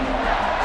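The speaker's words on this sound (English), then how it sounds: "This crowd is trying to inspire this defense to make a big red zone stop." Stadium crowd noise in a College Football 26 video game, a brief steady roar of a large crowd rising during a red zone defensive stand.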